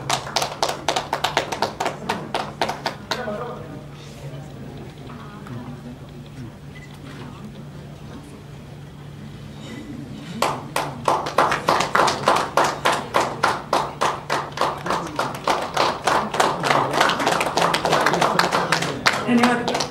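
Audience applause for Suresh Heblikar at the success meet of the film Tayavva, with loud rhythmic clapping at the start, a quieter stretch of murmuring crowd in the middle, then a renewed burst of sustained clapping.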